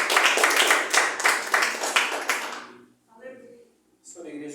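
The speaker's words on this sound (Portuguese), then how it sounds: "Receba o servo do Senhor com as palmas bem alegres" A church congregation claps along in quick, steady rhythm for a couple of seconds, loud and close, before the clapping stops and a voice begins speaking.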